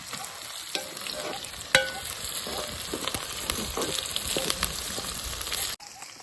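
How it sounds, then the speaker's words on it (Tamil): Small onions fry in ghee with a steady, close sizzle, broken by occasional spoon scrapes and clicks against the pan, before the sound cuts off abruptly near the end. "இந்த சின்ன வெங்காயம் நல்லா ப்ரௌன் ஆகி உள்ளெல்லாம் நல்லா வெந்து"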